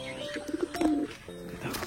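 Pigeons in a loft, some feeding chicks and some sitting on eggs, give several low throaty coos and warbles in short overlapping bursts, close and moderately loud, with no voices.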